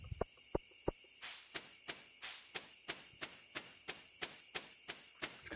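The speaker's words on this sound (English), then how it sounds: "It's kind of nice hearing the crickets and everything like that." Crickets chirp in a steady, evenly spaced rhythm through a quiet nighttime scene in the farming video game Stardew Valley, after a few sharp clicks at the start, with no talking.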